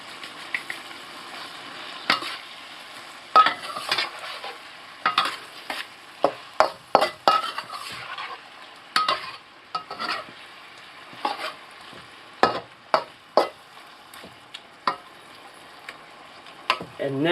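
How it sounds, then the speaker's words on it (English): Raw sugar being stirred into a sizzling pan sounds as a faint fry hiss punctuated by repeated sharp clicks and scrapes of a utensil against the pan, irregular and close. "Stir that in."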